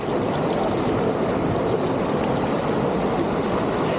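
Stream water rushing steadily at the start of a hidden waterfall in Attappadi's forest, a continuous broadband roar that stays loud and even throughout with no voices.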